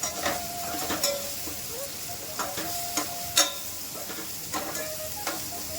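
Red chilli powder and coriander-cumin powder fry in hot oil for a spinach and chana dal curry, a steady close sizzle broken by repeated scraping stirs of the spoon against the pan.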